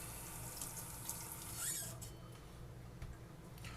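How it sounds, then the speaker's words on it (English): Tap water runs softly while a knife blade is rinsed before filleting mackerel, a faint continuous flow with a few small splashes and squeaky rubs, no one talking. "I'm going to rinse my blade."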